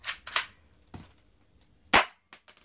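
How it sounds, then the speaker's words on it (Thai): A K35 air rifle is cocked and fired: a few sharp close cracks and clicks with short gaps between, the loudest shot near the end, and no talk. "ขึ้นลำ ยิงเลยครับ"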